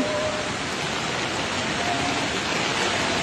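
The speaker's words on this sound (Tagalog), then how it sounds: "Pabugso-bugso ang hangin at lakas ng ulan dito" Heavy rain and gusty wind from Typhoon Kristine in the Philippines pour down in a dense, steady roar, with no break or voices over the rushing noise.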